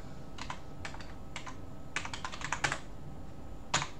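Keys clatter on a computer keyboard while someone types in a Linux desktop setting, with short irregular bursts of crisp clicks and a final lone tap, close and fairly quiet, with no speech.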